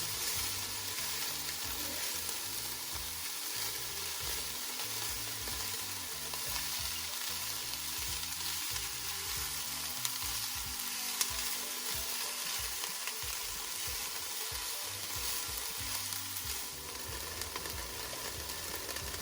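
Vegetables frying for Jamaican cabbage, a dense steady sizzle with light stirring throughout, under faint background music and no voices.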